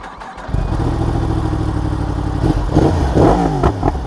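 Yamaha R1 sport motorcycle engine running loud and close while riding on a long trip with the engine fault light on, a steady mid-pitched drone that surges and revs in the final seconds.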